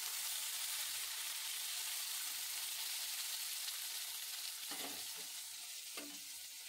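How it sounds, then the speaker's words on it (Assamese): Cut okra pieces sizzle and fry steadily in hot oil, a dense continuous crackle with a few louder stirring scrapes near the end, no voices. "এতিয়া মই ভেন্দি কেটা টুকুৰা টুকুৰাকৈ কাটি ললো ইয়াত মই এতিয়া ফ্ৰাই কৰিব লৈছো"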